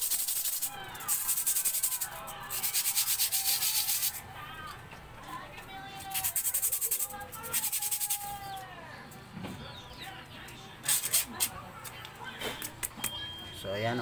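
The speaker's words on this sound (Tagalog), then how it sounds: "dahil wala tayong manipis na liha mga boss, o yung pino lang, ay liha muna natin siya sa part na magaspang mga boss" A Honda Click scooter's rear brake shoe is scrubbed with coarse sandpaper in a few bursts of harsh rasping strokes, separated by quieter pauses, with someone talking and faint bird chirps nearby.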